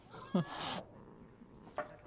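A short, quiet cat meow from The Witcher 3 video game, a soft breathy hiss, then another brief meow a moment later.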